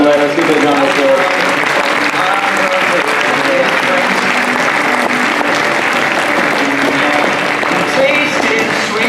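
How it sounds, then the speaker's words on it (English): Sustained, dense applause from a school audience fills a senior sports awards ceremony, steady and loud throughout with a rumble of crowd noise mixed in. "Well done there, let's give it a round of applause."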